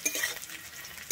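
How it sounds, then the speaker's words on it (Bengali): Green chilies fry in a pan for a Bengali beetroot and carrot curry, giving a steady soft sizzle with a few metallic clinks and scraping stirs at the start and end. "আমি কাঁচা লঙ্কাটা একটু দিয়ে ভেজে নেব।"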